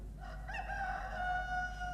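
A rooster crows once in a drawn-out, wavering call at moderate distance, fairly faint against a low steady background hum.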